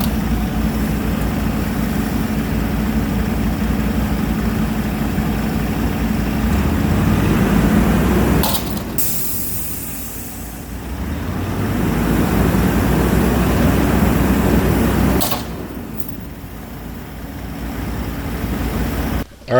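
A semi truck's diesel engine runs loudly while lifting a dump bed loaded with 20 tons of stone, a sustained low rumble that surges and eases, broken by two sharp bangs and brief quieter stretches.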